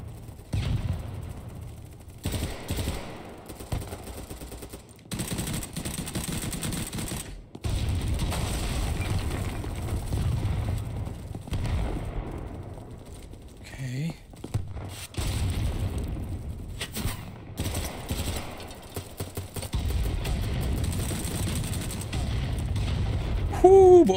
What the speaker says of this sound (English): You can just hear all of the gunfire just all around us.